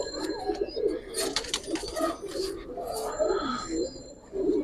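Coloured and Giribaz pigeons coo in low, repeated burbling phrases throughout, close by, with a voice talking over them at times.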